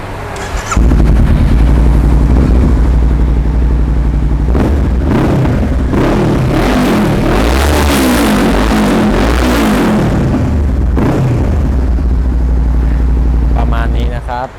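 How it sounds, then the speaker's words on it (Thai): A 2017 Honda CB500F motorcycle engine runs loud and close, its rumble swelling and easing as the throttle is worked, continuous for several seconds. "เดี๋ยวเราฟังเสียงเครื่องยนต์กันดูนะครับ"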